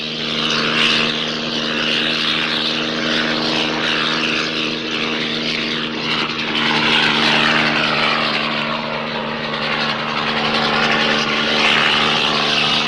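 A propeller airplane flying low over mountains drones loudly and continuously, a steady engine hum with a throbbing buzz that holds throughout without any voices.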